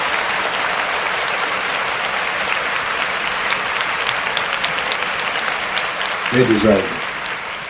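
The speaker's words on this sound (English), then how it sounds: "let's give them a round of applause" Sustained audience applause for Washington State fills the room at an even level, with a voice briefly speaking over it near the end.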